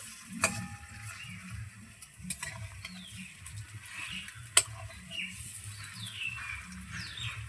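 Pui shak bora, fritters of Malabar spinach, fry quietly in oil with a low steady bubbling and occasional sharp clicks of a utensil turning them, close and without talk.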